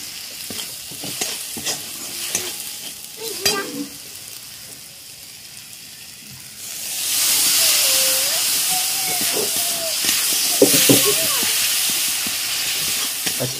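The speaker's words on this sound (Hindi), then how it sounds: "अच्छी तरह मसाले भूनने दीजिए।" Onion with pasta masala and turmeric frying in a pan in a village kitchen: light clinks and scattered sounds at first, then a loud, steady sizzle and hiss that swells and holds for the second half, with faint background voices.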